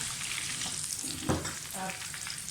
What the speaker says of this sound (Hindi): मैं हरी मिर्च डालूँगी, मैं पालक यूज़ नहीं कर रही। थोड़ा सा इसको फ्राई होने दें।